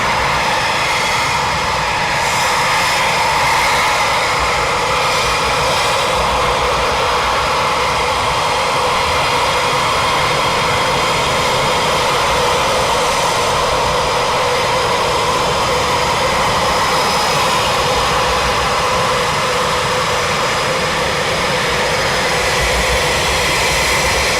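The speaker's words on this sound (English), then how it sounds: "Number 3 now taxiing up, 3 taxiing up to us." Eurofighter Typhoon jets taxiing at RAF Coningsby at night: a loud, continuous jet-engine roar and whine close by, steady throughout with no talk.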